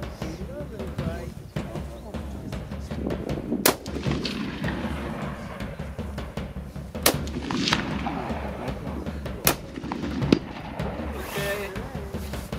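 Sharp rifle reports ring out several times during a plains game hunt in South Africa's Eastern Cape. The loud cracks are spaced a few seconds apart over outdoor rumble, with people talking throughout.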